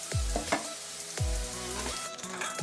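Mixed vegetables for a Marathi vegetable bhaji frying in a pan, a steady close sizzle broken by repeated scraping stirs of a spoon against the pan.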